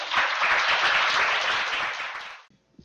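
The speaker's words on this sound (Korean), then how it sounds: "이 두 분에게 좀 큰 박수 부탁드립니다." Dense audience applause fills the hall at a lecture on Marxism and psychology, loud and steady for about two and a half seconds before cutting off abruptly, leaving a brief faint tail.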